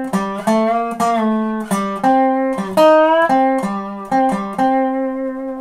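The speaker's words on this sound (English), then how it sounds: "If I do blocking, then I sound like this." Dobro resonator guitar played with pick blocking, each note cut off cleanly as the next is picked, giving crisp, separated notes in a steady melodic line, loud and close with no voices.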